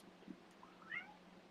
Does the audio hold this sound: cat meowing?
yes